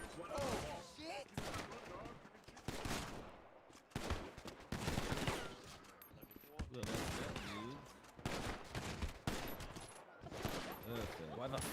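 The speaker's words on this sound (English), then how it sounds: "Why the fuck are these guys shooting people?" Gunfire in GTA 5, with rapid shots and bursts mixed through near-constant agitated voices and game noise, fairly busy and cluttered.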